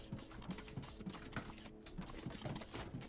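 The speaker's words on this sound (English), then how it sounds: "Operator robot weld other leg." Robot welding a robot's leg on a factory line in the video game Foundry, a steady rhythmic mechanical whirring and clicking repeating about every half second, moderately loud and continuous.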